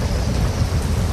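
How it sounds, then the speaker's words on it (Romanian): Thunderstorm with heavy rain as a story sound effect for the tale of the Little Mermaid, a loud dense roar of downpour with deep rumbling thunder throughout. "Dintr-o dată însă a izbucnit furtuna."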